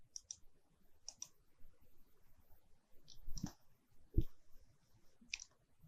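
Mouse clicks while clicking OK in structural engineering software: several soft, crisp clicks, some in quick pairs, scattered over a very quiet background with a couple of duller taps.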